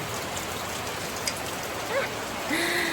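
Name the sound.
rain falling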